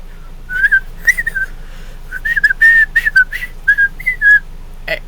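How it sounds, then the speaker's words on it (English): A person whistles the Powerpuff Girls theme tune, a clear lively melody of short phrases and quick runs, close and loud with no talking. "Just by me whistling that tune, the Powerpuff Girls"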